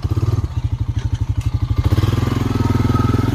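Four-wheeler ATV riding around a yard, its engine chugging in a fast, steady, close thumping rhythm that rises in pace partway through.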